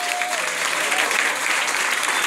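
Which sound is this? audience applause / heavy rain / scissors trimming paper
audience applause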